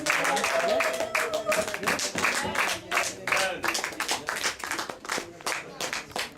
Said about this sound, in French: Let's stand and clap for God